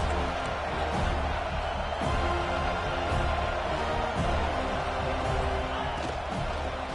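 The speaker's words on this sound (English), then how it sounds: "This crowd trying to make life miserable for this offense." Stadium crowd noise in an American football video game, a steady loud roar of cheering throughout with a commentator's voice faintly underneath.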